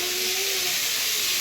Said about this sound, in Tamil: எண்ணெய் ஊற்றிட்டு உருளைக்கிழங்கு போட்டேன்.